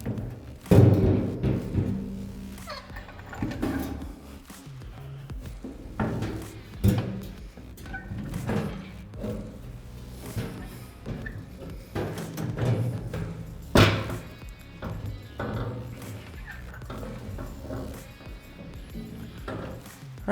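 Repeated thumps and thuds as a gas tank is lifted and a jack is scooted underneath a 1967–72 Chevy C10, with irregular knocks and metallic clunks close by in a garage and faint voices now and then.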